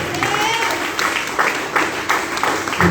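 A church congregation claps for Jesus, a full, even wash of many hands with rhythmic pulses running through it and faint voices mixed underneath.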